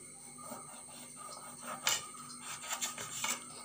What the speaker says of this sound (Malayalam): നമ്മൾ നാരങ്ങ മുറിക്കാൻ പോവാണ്